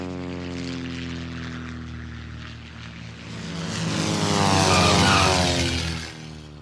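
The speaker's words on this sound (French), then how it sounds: "Est-ce que tu crois qu'on va voir d'autres avions? Oui, Caillou. Il y en a justement un qui s'apprête à atterrir." A propeller airplane comes in to land, its engine drone steady and loud, swelling as it passes nearest before fading slightly, heard alone with no talk.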